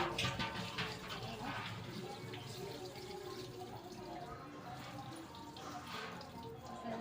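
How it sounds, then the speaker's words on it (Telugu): Running water splashing and trickling over an item scrubbed with lemon as it is rinsed clean, a steady close wash with small drips and splashes throughout, no talking. "ఇప్పుడు శుభ్రంగా కడిగేసుకుందాం."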